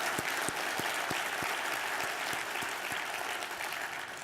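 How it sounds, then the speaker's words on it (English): An audience gives a speaker another round of applause, sustained clapping filling the room at an even level and fading slightly toward the end, with a few distinct louder claps standing out near the front. "I'd like to offer him another round of applause"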